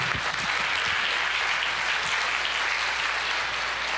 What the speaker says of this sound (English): I know you're clapping for the process itself